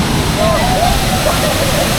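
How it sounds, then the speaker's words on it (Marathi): The large Savari waterfall in Goa roars loud and close, a dense, continuous rush of falling water, with a voice talking faintly beneath the spray. "एवढा मोठा वॉटरफॉल आहे ना, काय सांगायचं तुम्हाला. त्याची धाप इथपर्यंत येते."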